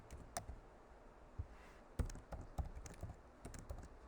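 Soft, irregular clicks of typing on a computer keyboard while entering HTML list items, light, sparse keystrokes at close range in a quiet room.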